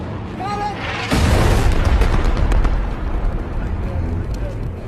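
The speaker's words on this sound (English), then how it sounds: "Bombs inbound!" Bombs burst in a war action movie: a sudden loud, deep blast erupts and rumbles on for several seconds, following a brief shouted voice.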